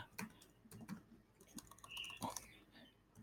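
Text being typed on a computer keyboard, a quick irregular run of close, soft key clicks and taps over a quiet background, without speech.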